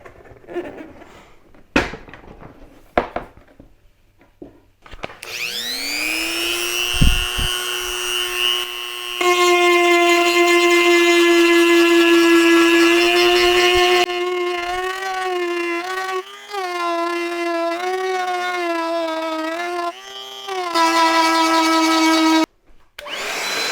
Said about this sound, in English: Here's some close-ups of the Dremel work.